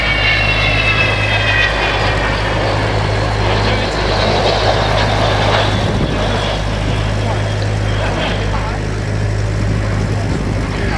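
An Avro Vulcan jet bomber approaching at an airshow drones steadily, a continuous deep rumble with a whining upper tone that holds at a fairly loud level throughout.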